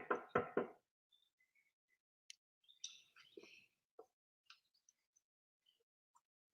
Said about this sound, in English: You got Mosky banging on the door like